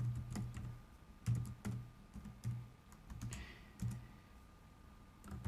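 Keys clack on a computer keyboard as a spreadsheet formula is typed in Excel, scattered soft taps in uneven short runs, quiet and close, with no talking.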